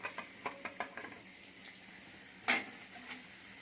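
An egg fries in a pan with onions, giving a soft, faint sizzle with light ticks and scrapes, then one brief louder hiss burst before the sizzle settles down again.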